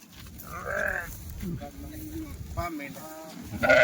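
Sheep and lambs bleat repeatedly as they are unloaded from a truck, several calls overlapping with people talking nearby and a low background rumble.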